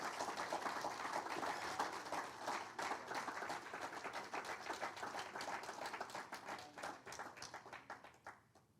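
A church congregation applauds for the Lord, a dense wash of many hands clapping at steady volume that slowly thins and fades toward the end, with no talking over it.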